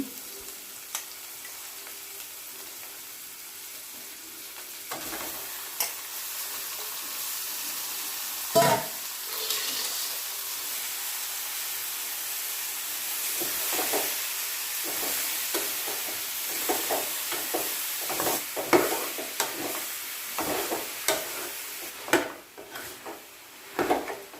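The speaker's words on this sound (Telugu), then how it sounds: "ఇందులోనే మటన్ కూడా వేసి అంతా కలుపుకోవాలి" Mutton is stirred with turmeric in a pan for gongura curry: a quiet frying hiss carries repeated spoon scrapes and knocks that come faster and louder toward the end.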